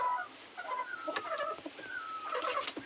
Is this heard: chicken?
yes